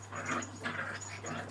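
Dogs whimper indoors in a few short, whiny bursts close by, with a steady low hum underneath.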